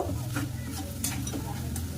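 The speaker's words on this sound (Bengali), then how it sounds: "তো মশলাটা ভাজা ভাজা মতো হয়ে এসছে।" Spices for a potato curry sizzle in a pan while a utensil stirs and scrapes in a few quick strokes, close up.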